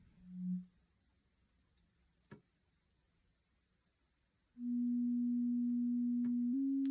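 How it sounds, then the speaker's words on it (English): A steady, pure sine wave tone from a Befaco Oneiroi synthesizer sounds alone and holds, nudging slightly higher near the end, after a brief soft tone and near-silence. "Very faint sine wave we have there."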